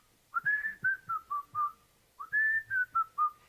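A person whistles an imitation of a catchy whistle hook from a dance record. Two close, clear phrases each start with a rising note and then step downward through several short notes, with a brief pause between them and no talk.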